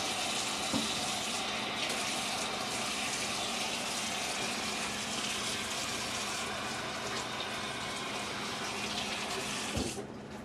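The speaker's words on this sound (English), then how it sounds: "I'm gonna wash my hands" Water runs steadily from a kitchen tap for hand washing, a continuous close hiss and splash that lasts nearly the whole stretch and cuts off near the end, with a brief thump.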